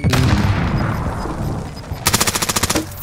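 Call of Duty Warzone gunfire: a loud close burst of shots, then after a pause a rapid rhythmic automatic volley of about a dozen sharp reports, no talk.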